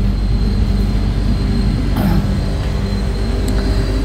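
A train rumbles loudly and steadily at Jakarta Pasar Senen railway station, with a low continuous roar and faint metallic squeals overhead, no voices present.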